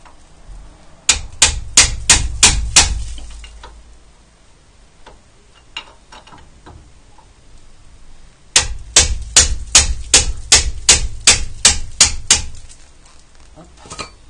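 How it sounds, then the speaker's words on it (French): Sharp metallic hammer blows strike the brake caliper bolts on a Renault Megane Scenic 2 during a brake disc and pad job: two rapid bursts of about eight to ten close, ringing knocks each, separated by quieter handling noise. "Pareil, petit coup de marteau pour débloquer."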